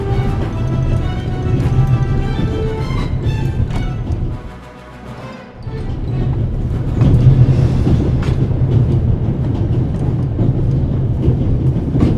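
A steam train in the Alps in The Raven Remastered game rumbles along steadily with a clickety-clack of wheels on rails, loud and close, dipping briefly in the middle before resuming.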